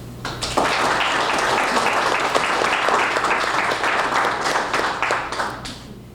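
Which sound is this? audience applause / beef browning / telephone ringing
audience applause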